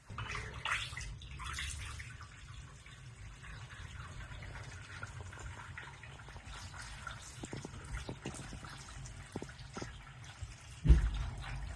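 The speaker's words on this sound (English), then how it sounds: "Make a few turns counterclockwise to open it, and we can start filling the coolant." 50-50 pre-mixed coolant poured into a BMW cooling system, a continuous close liquid rush and gurgle with small bubbling pops, holding steady for the whole stretch with a brief louder knock near the end.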